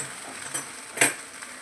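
Maggi masala is stirred in a sizzling frying pan, with a soft crackle running under two quick scraping stirs, the second louder, heard close with no talk.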